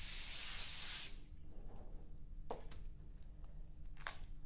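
An airbrush sprays AutoAir Colors metallic blue paint in a steady, close hiss for about a second, then stops, leaving quiet room tone with a few short clicks and faint bursts.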